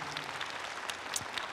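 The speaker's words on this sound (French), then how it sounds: "On peut l'applaudir, s'il vous plaît" Audience applause from a convention panel crowd at TGS Toulouse 2021, a brief steady patter of clapping hands filling the room, moderately loud with no talk over it.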